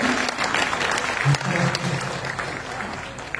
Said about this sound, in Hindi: एक बार तालियां बजाकर मुझे अनुमति दीजिए